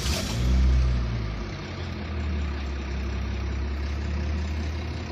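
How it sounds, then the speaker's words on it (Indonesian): Honda Brio Satya car engine starts and settles into a steady, close, loud idle with a low rumble and no talking over it. "Coba kita hidupkan mesinnya."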